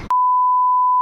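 A single sustained censor beep, one pure tone lasting just under a second, cuts in abruptly after a brief burst of sound.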